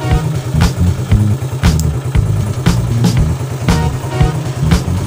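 A motorcycle engine runs with no battery fitted, a steady close mid-pitched idle with a regular pulsing beat and occasional sharper revs, heard alone throughout.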